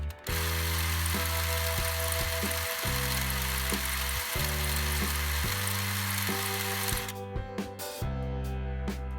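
A 1970 Hot Wheels Tune-Up Tower treadmill runs a toy heavyweight cab with bad axles, giving a steady high whirring motor drone with shifting tonal hum and brief dips, loud and continuous before cutting out near the end.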